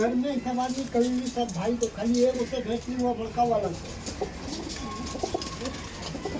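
Punjabi pigeons coo in a steady, throaty, repeating warble close by, several birds overlapping, while someone talks over them throughout.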